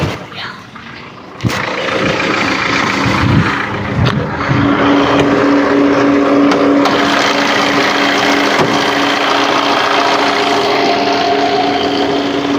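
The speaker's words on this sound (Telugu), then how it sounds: "ఇంజన్ అయితే నేను స్టార్ట్ అయితే చేస్తూ ఉన్నాను" A Maruti Ciaz Delta SHVS car engine cranks and catches, then settles into a steady, loud, close idle with a constant hum.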